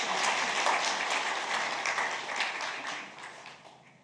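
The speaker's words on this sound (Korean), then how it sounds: "박수도 한번 쳐주시고" A church congregation at a Korean Lenten revival service applauds. A dense, even wash of clapping fills the room at moderate volume and gradually fades toward the end, with no voices over it.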